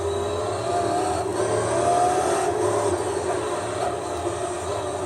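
A Pagani Zonda race car in Gran Turismo 3 holds a steady engine drone at sustained speed, loud and continuous from start to finish with no voices over it.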